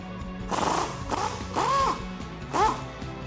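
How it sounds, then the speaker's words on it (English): A socket wrench works a sway bar end link bolt on a Toyota Tundra, giving a series of about four metallic ratcheting strokes with scraping, creaking pulls over a low background hum. "now with your 19 mil socket, we're going to go ahead and remove this bolt here"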